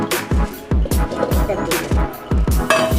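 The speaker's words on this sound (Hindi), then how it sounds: "एक कद्दू काट करके अब इसे उबाल लेंगे।" A knife chops through a pumpkin on a board, with about seven sharp, evenly spaced strikes close to the microphone and a voice talking faintly between them.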